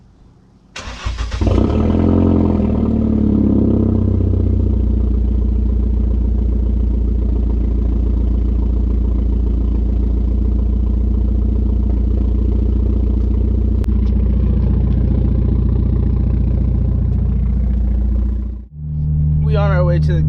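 A tuned 300whp Hyundai Genesis coupe with downpipe, test pipe, straight pipe and an upgraded intercooler fires up and settles into a loud, deep, steady rumble, which briefly dips near the end before resuming, with voices faintly underneath.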